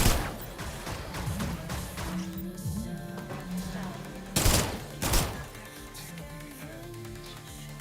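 Gunfire at exec bots in System Shock, rapid bursts under busy game sounds, with two louder sharp impacts near the end and a voice speaking during the fight.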